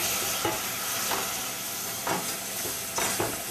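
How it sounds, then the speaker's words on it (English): Stock being whisked into a pan for butternut squash mac and cheese, a continuous wet swishing and sizzling with a few sharper clinks of the whisk against the pan. "You want to make sure you really whisk this because you don't want any lumps"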